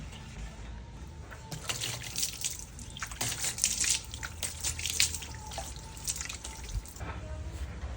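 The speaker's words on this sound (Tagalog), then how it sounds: "Tapos babanlawan natin ng tubig." Water runs and splashes steadily over a surface for several seconds, rinsing off water-mark remover, with irregular drips and spatters rising and falling close by.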